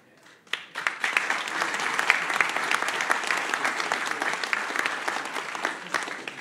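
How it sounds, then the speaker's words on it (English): Applause at an inaugural council meeting for newly elected councillors, starting abruptly after a quiet moment and building into sustained, steady clapping from the gathered audience. "One more round of applause for all our newly elected councillors."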